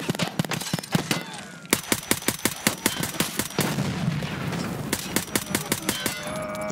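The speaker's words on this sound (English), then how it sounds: "What a fucking gunfight." A video game gunfight with rapid, loud gunfire filling the whole stretch, including steady automatic bursts and sharp single shots with metallic clangs and no pauses.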